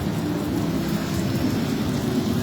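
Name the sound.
heavy rain with thunder in Sinjai Regency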